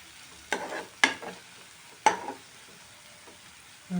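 Green chilies frying in a pan for masala pasta, stirred in a few quick scraping strokes over a faint sizzle, with quiet gaps between them.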